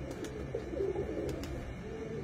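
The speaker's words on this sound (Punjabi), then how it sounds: "ਇਹ ਜੇ ਨਵਾਬਾਂ ਵਾਲੇ ਕਬੂਤਰ ਜਿਨ੍ਹਾਂ ਦਾ ਜ਼ਿਕਰ ਕਰ ਰਹੇ ਸੀ ਮਲਕ ਬਾਬਰ ਸਾਹਿਬ" Nawaba pigeons cooing nearby, a couple of soft low coos rising over a murmuring background with faint chirps.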